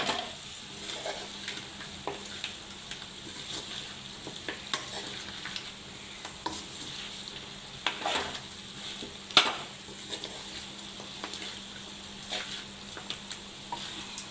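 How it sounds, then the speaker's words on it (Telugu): Farm chicken fries in a pan over a low flame, with a soft continuous sizzle broken by scraping, clinking stirs of a spoon against the pan, close and fairly quiet. "ఇది ఇక సిమ్లో పెట్టుకొని మెల్లగా ఇట్లా తిప్పుతూ ఉండాలి"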